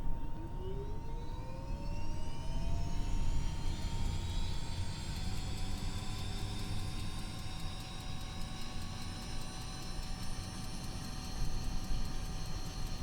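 A Pilatus PC-12 turboprop engine starts up in Microsoft Flight Simulator, a rising whine climbing steadily in pitch over a low rumble, then settling into a sustained, even turbine drone, faint and alone with no talk.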